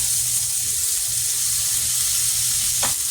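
Seasoned burger patties sear in a hot pan with a steady, close sizzle and crackle throughout, no talking.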